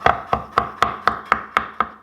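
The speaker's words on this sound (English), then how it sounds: "So we gotta cut the chicken breast up. I'm gonna cut it up into some pieces." A knife chops chicken breast on a cutting board in eight sharp, evenly spaced thuds, close and crisp, each ringing briefly, with no talking.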